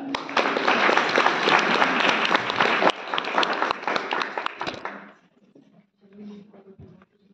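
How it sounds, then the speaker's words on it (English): Dense clapping from an audience at an evening music program fills the first five seconds, loud and continuous, then fades out, leaving faint murmurs and a brief voice. "So a round of applause for her."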